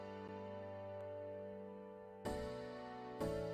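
Layered tack piano and glass piano play bright, dreamy chords in an electronic song arrangement, with sustained tones and two sharp new chord hits late on, moderately quiet with no voices.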